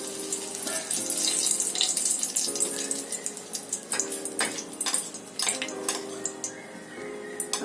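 Curry leaves drop into about two tablespoons of hot oil in a pot, bursting into loud, crackling sizzles that spit in uneven pops and gradually settle into a lighter, scattered frying hiss.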